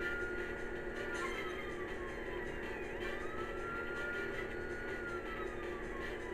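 An emergency vehicle's siren wails continuously with rising and falling sweeps over a steady engine and road rumble, heard from a vehicle following close behind.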